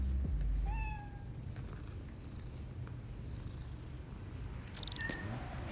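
A cat purrs steadily and gives a couple of short meows in Marvel's Spider-Man: Miles Morales, heard close and fairly quiet against a low ambient game background with no talking.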